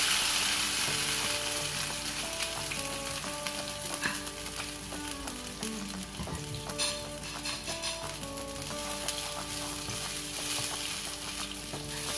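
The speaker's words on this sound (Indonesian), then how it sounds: "Panaskan minyak secukupnya untuk menumis bumbu yang udah dihaluskan" Ground spice paste sizzles in hot oil for a Minang rib soup, a dense, even frying hiss lasting throughout, with a faint background melody.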